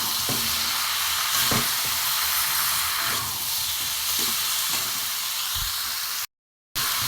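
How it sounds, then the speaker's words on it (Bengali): Boiled jackfruit and potato sauté in a hot pan with a loud, steady sizzle and a few soft stirring knocks, ending in a brief silence. "দিয়ে আমি এতে একবারে কষিয়ে নেবো।"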